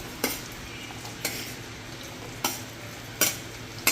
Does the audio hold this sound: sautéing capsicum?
yes